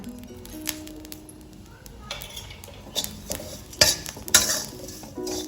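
Spice flowers roast in half a spoon of oil for homemade kala masala, with a metal spoon scraping and clinking against the pan over a faint sizzle, in irregular close strokes and no voices.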